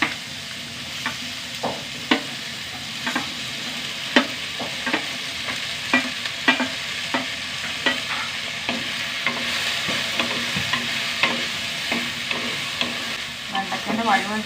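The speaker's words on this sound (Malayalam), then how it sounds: "വെണ്ടയ്ക്കൻ്റെ വഴുവഴുപ്പ് നന്നായി പോകണം," A quarter kilo of okra sautés in a pan with a steady sizzle under regular sharp scraping taps of a spoon, roughly one every half second, close and alone with no talking.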